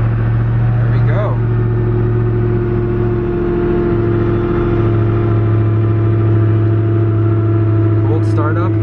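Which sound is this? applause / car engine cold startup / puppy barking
car engine cold startup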